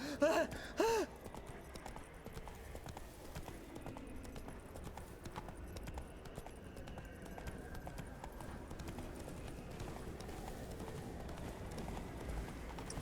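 Roach the horse gallops during a chase in The Witcher 3, with steady, fairly faint hoofbeats running under game ambience after a couple of brief louder sounds at the start.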